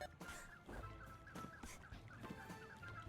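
Cartoonish birds in the A Hat in Time video game squawk and honk in short, repeated bursts, a quiet stretch of several rapid calls with no talk over them.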